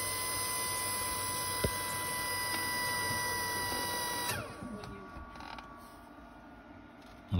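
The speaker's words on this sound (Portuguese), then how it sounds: "Agora eu vou abrir o registro geral de água salgada." A boat's main saltwater intake valve is opened, with a steady mechanical hum and tonal whine, a sharp click partway through, then the drone drops away into quieter creaks and a final knock.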